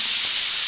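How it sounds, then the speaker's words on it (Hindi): Pressure cooker whistle venting steam, a loud continuous close hiss that holds steady throughout with no voices. "देखा, प्रेशर कुकर ने भी सीटी बजाई।"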